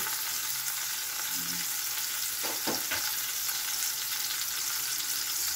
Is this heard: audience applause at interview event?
no